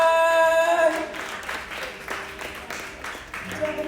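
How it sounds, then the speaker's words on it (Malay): An audience at the Ratu Hijabista 2020 press event applauds loudly and continuously with dense clapping, while a voice speaks over it. "Tepukan yang paling gemuruh untuk Afiq Syazwan."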